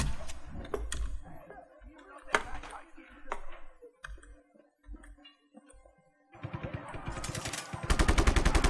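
Gunfire in the video game Just Cause 3, a run of sharp shots spread across the clip, some isolated and some in quick bursts, ending in a dense rapid volley; someone talks in between.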